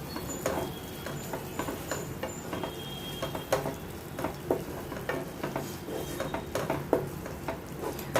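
Red chilli, Kashmiri red chilli, turmeric and cumin frying in a pan for a katla fish curry, with a soft steady sizzle under repeated scraping and clinking of a spatula stirring the spices.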